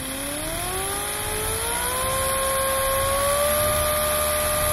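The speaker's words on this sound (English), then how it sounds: "This is an 8-cylinder positive displacement radial piston engine." A compressed-air 8-cylinder radial piston engine runs at 60 PSI, a steady close whirring drone with a clear tone that rises smoothly in pitch as it speeds up, with no talk.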